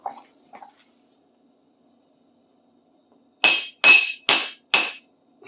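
Hammer blows straighten a bent screwdriver tip on an anvil: four sharp, ringing metallic strikes in quick succession, loud and close, after a few faint knocks and near silence.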